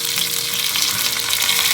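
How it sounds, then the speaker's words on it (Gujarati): Curry leaves, eight to ten of them, hit hot oil already popping with mustard seeds for a tempering, giving a loud, steady, close sizzle and crackle that fills the whole moment with no voices. "8 થી 10 પાન જેટલો લીમડો નાખીએ છીએ."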